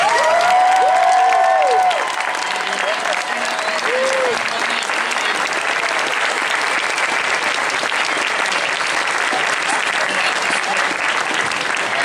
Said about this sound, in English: Ladies and gentlemen, big round of applause for Larry.